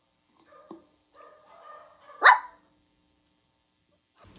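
A person imitates a dog bark with a single loud, sharp yelp that stands alone, after faint murmuring and a couple of quiet vocal noises.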